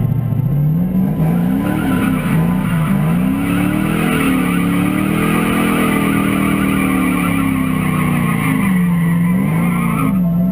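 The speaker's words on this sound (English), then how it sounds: "in fourth gear, I got a clutch kick, so I'm like losing power" A drift car in fourth gear at NCM Motorsports Park skids continuously, its engine droning and rising and falling loudly under steady tire squeal, close and with no talking.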